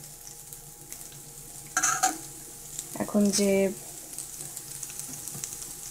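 Chopped onion and green chilies tipped into a frying pan of oil with ginger and garlic for a Chinese-style eggplant dish, a low steady sizzle under brief speech, then clattering and scraping of a spoon against the pan.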